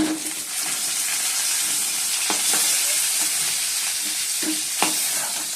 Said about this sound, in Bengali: মাছটা ভেজে নিচ্ছি, ঢাকা দিয়ে দিচ্ছি, তো ফুটছে মাছটা।